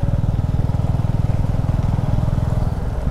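A Royal Enfield Classic 350 motorcycle rides a rough, muddy road, its single-cylinder engine thumping in a loud, close, fast and even rhythm for the whole stretch, with no talking.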